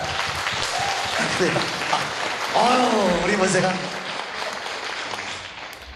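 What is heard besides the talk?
church congregation applause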